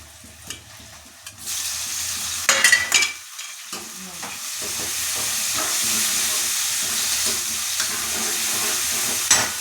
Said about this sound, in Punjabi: ਮੈਂ ਪਹਿਲਾਂ ਤੜਕਾ ਲਾ ਲਾਂ